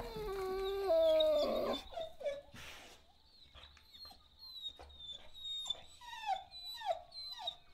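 A dog in the video game Copycat gives a run of whining, wailing cries that rise and fall, each one short and tonal, with quieter pauses and softer yelps between them.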